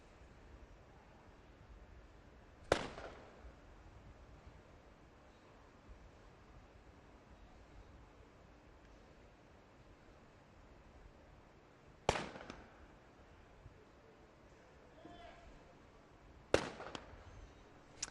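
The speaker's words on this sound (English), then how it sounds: "the snipers are engaging the shorter of their targets" Three sharp sniper rifle shots ring out from a distance at targets during a SWAT team competition, spaced several seconds apart over a steady outdoor wind hiss.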